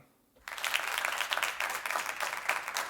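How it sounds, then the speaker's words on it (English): A small audience on a podcast set gives a round of applause, bursting in abruptly after a brief silence and continuing as lively, fairly close clapping for a few seconds. "I want to give a big round of applause to Mr."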